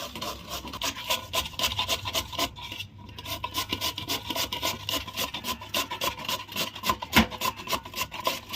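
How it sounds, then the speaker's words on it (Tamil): Potato grated by hand on a grater, a quick steady rasping scrape repeated in rapid strokes, close and clear with no talk. "நம்ம உருளைக்கிழங்கு இது துருவி எடுத்துக்கலாம்"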